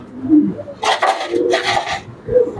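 Pigeons coo with low, soft, throaty calls at a close loft, mixed with brief rustling bursts like flapping wings.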